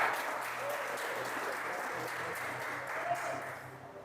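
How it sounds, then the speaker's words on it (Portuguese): A church congregation applauds during a Portuguese-language worship service, producing a steady, moderately loud wash of clapping that holds for about four seconds with faint voices mixed in. "Aplauda Jesus."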